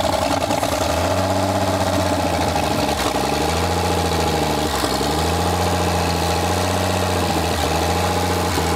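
A 1962 American Rambler engine, revived after sitting locked up and smoking, running close by at a rough, uneven idle whose rhythm repeatedly sags and lurches as it struggles to stay running.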